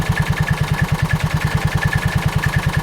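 John Deere Gator 4x2 utility vehicle engine idling steadily after the load is removed, a close, even low putter with a regular rhythm and no voices.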